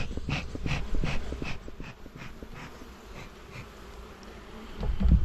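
A dense buzzing of many honeybees close by at an open hive of two full boxes, steady and droning with occasional louder passes and a bump near the end.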